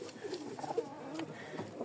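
Caged pigeons cooing close by, several soft, throaty coos in quick succession over a quiet room.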